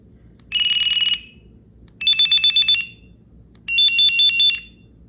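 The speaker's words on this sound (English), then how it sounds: "Okay, so that's all the ringtones on this one." Electronic ringtones on a Virgin Mobile phone: three separate bursts of bright, beeping melodic tones, each about half a second to a second long, warbling on a few repeated notes with short silences between, clear and close over faint background hum.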